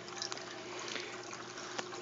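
Water runs through a primed hose dipped into a freshwater aquarium during setup, a soft continuous trickle and gurgle with a few small splashes, close and fairly quiet.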